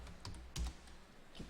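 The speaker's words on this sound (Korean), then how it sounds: "오탈자 없이 정확히 조합 엔터 쳐서 내려가면 돼요" Typing on a computer keyboard with an Enter press, a few soft, close key clicks with one slightly heavier stroke, quiet and without talk.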